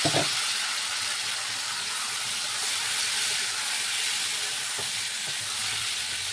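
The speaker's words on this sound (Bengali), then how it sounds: "এঁচোড়টা আমি ভালো করে ভাজবো, মানে ঢেকে ঢেকে ভাজবো যাতে নরম হয়ে যায়।" Young jackfruit fries in hot oil in a pan, a dense, steady sizzle and hiss with a few faint stirring knocks, close and loud, with no talk.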